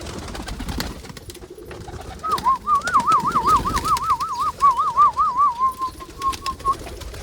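Close, loud pigeon coos roll in a wavering, repeated warble amid a flock of fancy pigeons, with rustling and low background noise beneath.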